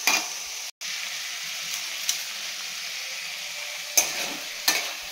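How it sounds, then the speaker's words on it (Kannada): Tomatoes with salt fry in oil in a pan with a continuous close sizzle, broken by a brief gap and a few clinks of a spoon stirring. "ಟೊಮೆಟೊ ಕೂಡ ಫುಲ್ಲು ಸ್ಮ್ಯಾಶ್ ಆಗೋ ರೀತಿ ಸಾಫ್ಟ್ ಆಗಬೇಕು, ಫ್ರೈ ಆಗಬೇಕಿದ್ದಲ್ಲಿ ಆಯಿಲಲ್ಲಿ."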